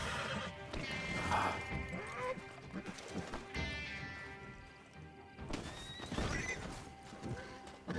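A horse in Red Dead Redemption 2 whinnies loudly and close while hooves clatter over a bed of game sound, with someone talking excitedly over it.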